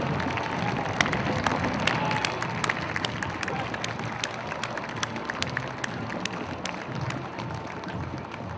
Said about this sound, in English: Please join me in a round of applause to honor all those who have served.